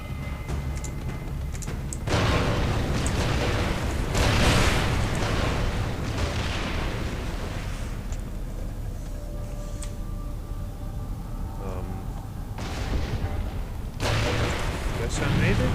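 A grenade blast in the video game Far Cry 3 booms with a heavy rumble. Several further thuds and explosions roll through a dense, continuous layer of game noise.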